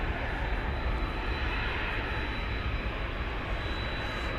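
A Kansas City airliner on a low approach at DFW Airport at night gives a steady, loud engine roar that stays even throughout, with no speech.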